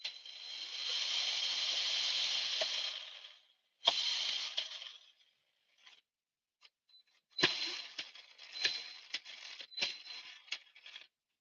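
A loose RC car drive shaft dog bone slaps and rattles on the bench: a sustained buzzy whir, then a burst, then a series of sharp irregular metallic clicks and taps, close and fairly loud with no talk.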